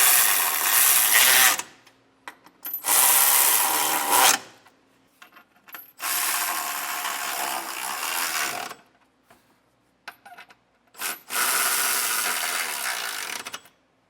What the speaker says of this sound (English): Get these started and then we can run them down with our drill.